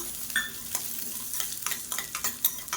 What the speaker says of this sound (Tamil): இது எல்லாத்தையுமே நல்லா வறுத்துக்கலாம்.